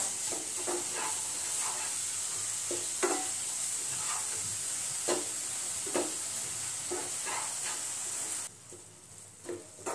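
Grated coconut filling for modak being stirred in a pan, a soft continuous sizzle and hiss broken by irregular scraping strokes of the spoon, close and moderately quiet, with the sizzle dropping away near the end.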